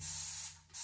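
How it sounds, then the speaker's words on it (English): Dawn Powerwash dish spray misting from its trigger handle in one steady hiss that fades briefly near the end, then a second short burst, close and alone. "you're going to take your dish spray and you're going to spray it on all the spots with this little neat handle"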